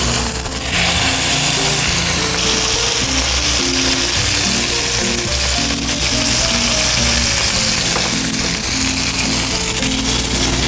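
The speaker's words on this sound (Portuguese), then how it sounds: "E vamos selar o nosso entrecô." An entrecôte steak sears in a hot pan with butter and a drizzle of olive oil, a loud continuous sizzle close up with faint tonal background sounds running underneath.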